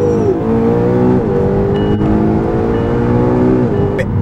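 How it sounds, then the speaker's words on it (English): McLaren GT sports car engine revving and accelerating up through the gears, a loud, steady, close-up roar with rising pitch and two brief shift dips, no talk. "It absolutely flies when you put the foot down. Not only that, but the sound it makes."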